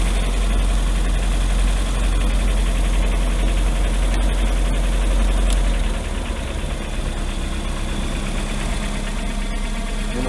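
Boat engine with an electric choke idling steadily, a loud, continuous low rumble that keeps an even rhythm and drops slightly in level partway through.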